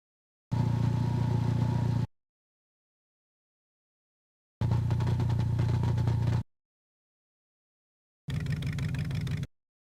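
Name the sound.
motorcycle engine sound in a video game, like a Harley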